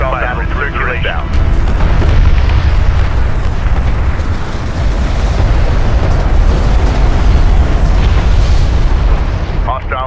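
In the Homeworld: Deserts of Kharak strategy game, a hostile interceptor is destroyed amid loud, continuous booming explosions and battle rumble, with a radio-style voice cutting in at the start and end.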